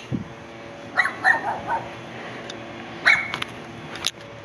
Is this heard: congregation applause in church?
no